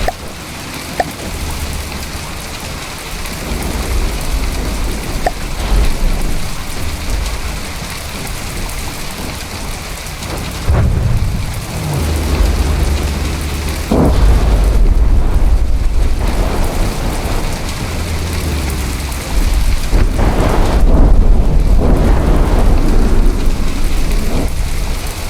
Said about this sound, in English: Those are just flak shells being fired out of simple weapons.